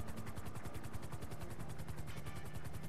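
A helicopter in the video game GTA 5 gives off a steady, fast, throbbing rotor chop that stays loud and close all the way through, with no voices heard.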